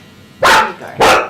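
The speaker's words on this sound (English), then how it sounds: "You can bark it out if you need to." A dog barks twice close by, two sharp, loud barks about half a second apart.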